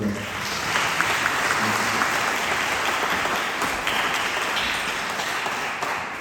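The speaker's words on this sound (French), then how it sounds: "on peut les applaudir" Audience at the Festival d'Arvor applauds the Reine d'Arvor candidates: steady, dense crowd clapping, fairly soft and diffuse, continuing without a break, with faint murmurs of voices mixed in.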